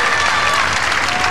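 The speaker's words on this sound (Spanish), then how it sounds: "Se aplaude el mismo" A tennis crowd at the ATP Viña del Mar tournament applauds after a point in the Nicolás Massú versus Gorka Fraile match, a loud, dense wash of clapping from a large stadium audience that holds steady without a break.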